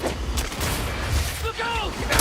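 A grenade explosion in Marvel's Spider-Man 2 lands amid bursts of combat noise, a couple of thuds and blasts under in-game voices shouting.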